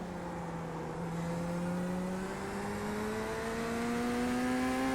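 An LMP2 prototype race car in iRacing at Daytona drives past with a steady rising engine whine, its pitch climbing gradually over the whole stretch and staying loud and close.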